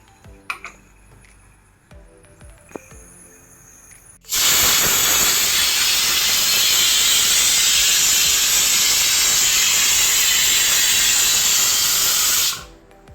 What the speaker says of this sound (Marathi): कुकरच्या शिट्या झाल्या आहेत आणि आता कुकर पण थंड झाला आहे